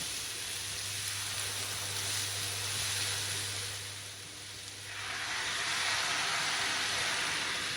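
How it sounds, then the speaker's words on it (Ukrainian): Sauerkraut frying in a pan gives off a steady broadband sizzle and hiss as water is poured in, loud and continuous, with a low hum running underneath and the sizzle swelling again after a brief dip. "І коли плюс-мінус половина капусти підсмажиться, вливаємо воду."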